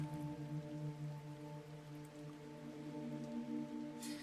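Rain in the fishing video game Out Fishing makes a soft, steady patter, quiet and continuous, under a sustained droning musical tone.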